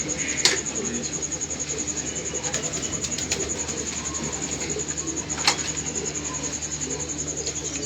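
Pigeons coo softly in an outdoor rooftop setting in Hyderabad, amid a steady background hum, a constant high-pitched electronic whine and a couple of brief sharp clicks.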